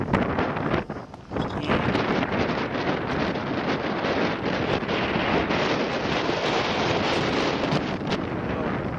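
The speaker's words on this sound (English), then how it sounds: "Very windy." Strong wind on a climb in the Black Hills buffets the microphone in a continuous loud roar, briefly easing early on before gusting back up and holding steady.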